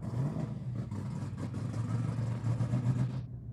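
A loud, rough car engine with its exhaust dropped rumbles and clatters steadily at close range, deep and raspy, before cutting off near the end.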